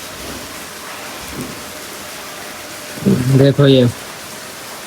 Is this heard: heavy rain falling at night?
yes